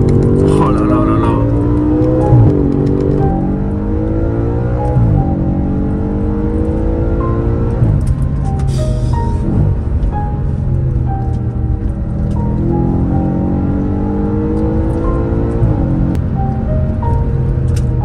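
Audi RS4 engine revving and accelerating in sport mode, heard from inside the car, with rising and falling harmonic sweeps as gears change; the steady, loud drone continues throughout.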